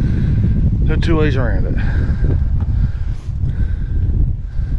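Strong wind buffets the microphone on Cadillac Mountain in Acadia National Park, a steady low roar running through the whole stretch as fog rolls in from the lakes at sunset, with a person talking over it.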